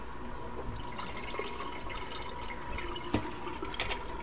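Rinse water draining off soaked mung beans set aside for sprouting, a steady close wash of pouring and trickling liquid with small splashes and a sharper spill near the end, no voices.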